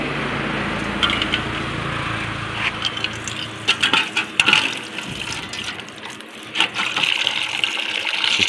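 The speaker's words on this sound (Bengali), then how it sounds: "সিস্টেম দেখছেন কীভাবে পানি নিই আমি" Water running and gushing into a container as it is drawn for a pigeon water bowl, a steady close stream with a few splashy bursts and knocks, no talking.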